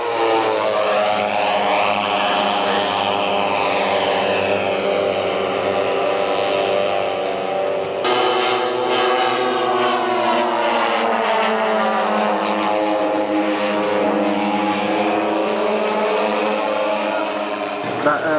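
A scale model airplane flying and rolling overhead, its engine droning steadily with rising and falling pitch sweeps as it passes and turns, loud throughout.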